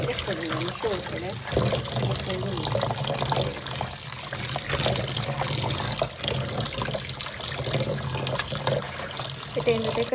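Water is poured and trickles into a pot during village-style cooking, a continuous splashing flow with a voice talking over it.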